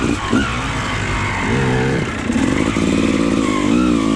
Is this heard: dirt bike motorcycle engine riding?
yes